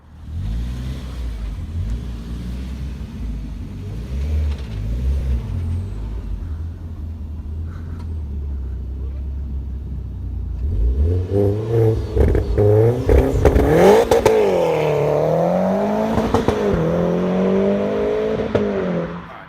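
A Ralliart car idles with a low, steady rumble for about ten seconds, then its engine revs hard in several loud rising and falling sweeps, close by, with no talking.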